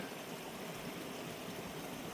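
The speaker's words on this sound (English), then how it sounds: "And there's a creek in the bottom." A creek runs through the bottom of a valley along the Camino de Santiago between Logroño and Frómista, giving a steady, broadband rush of flowing water that holds constant and fills the whole stretch without a break.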